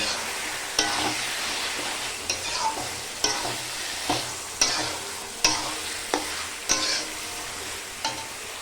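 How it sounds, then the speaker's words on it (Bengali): Meat goes into a hot pan and sizzles, with spatula stirs and scrapes landing as sharp, repeated bursts over a steady frying hiss; no voices. "এবার মাংসগুলো দিয়ে আমি ঢাকা দিয়ে দেবো"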